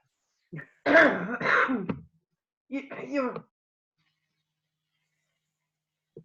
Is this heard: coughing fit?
yes